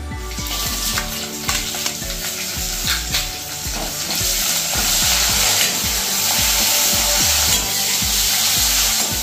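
Chopped onion frying loudly in a pan, with a dense continuous sizzle and crackle and regular scraping stirs throughout, close and alone, with no speech.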